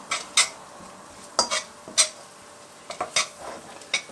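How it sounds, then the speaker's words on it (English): Ingredients for Caribbean roti stirred in a pan, a handful of short scraping and clinking strokes of a utensil against metal spaced irregularly over a quiet sizzle, close by. "Gonna give this a nice good stir."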